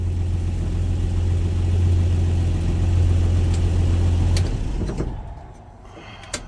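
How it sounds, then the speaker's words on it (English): A 1983 Dodge D150 pickup engine runs steadily at a close, loud idle with a low hum, then cuts off toward the end, leaving a quieter tail with a small knock. "Heater AC starts the fucking truck."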